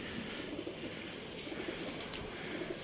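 Soft pigeon coos over a steady outdoor background hiss, with a few faint chirps.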